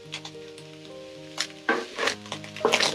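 Cauliflower sizzling in a hot pan for mixed fried rice, with bursts of crackling fry and stirring that grow louder toward the end, over a faint steady hum and no talking.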